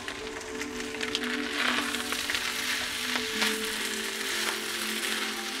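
An egg fries in a pan on top of cut ingredients, giving off a steady close sizzle with faint crackles and occasional light stirring.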